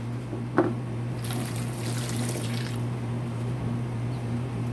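Water trickles and soaks into garden soil, a soft continuous pour with a brief splash early on, close by over a low steady hum.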